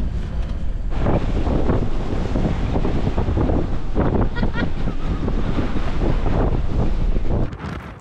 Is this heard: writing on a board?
no